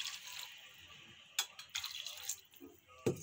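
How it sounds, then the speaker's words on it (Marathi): Water is poured into a pot of chicken curry as it cooks at home, a faint splashing trickle with a few sharper drips and splashes, quiet and close. "आता आपण लागण्यानुसार पाणी घालून घेऊ"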